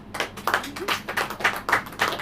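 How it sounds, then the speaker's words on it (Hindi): A church congregation claps hands together, a small group producing quick, slightly uneven bursts of claps at close range, no talking over them. "ताली बजाएं।"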